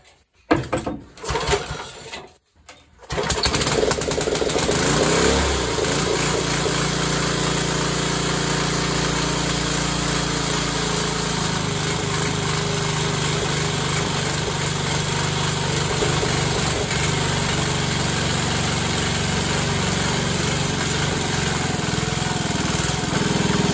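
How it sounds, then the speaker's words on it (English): A 1960s–70s Bachtold brush mower's small engine is pulled over and catches after a few uneven bursts, then settles into a loud, steady idle that runs on alone. "here I am getting ready to start up the mower"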